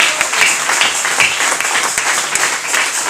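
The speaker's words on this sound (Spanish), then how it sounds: "¿Cuántos le podemos dar un aplauso al Rey?" A church congregation claps together in steady, dense applause during a service, loud and continuous from start to finish with a few sharper claps standing out.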